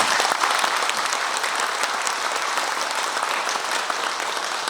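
Sustained audience applause at a public lecture in Nonsan, South Korea, a dense even roar of many hands clapping with no voices over it, steady and fairly loud for the whole stretch.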